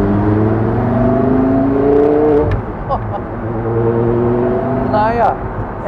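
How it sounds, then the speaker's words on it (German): A 2006 Porsche Carrera GT engine with a racing exhaust idles loudly with deep, steady exhaust rumble, briefly blipping and revving near the end, with talk faintly underneath. "er hier hat auch einen Rennsportauspuff, dass man ihn richtig gut hört, den Sound"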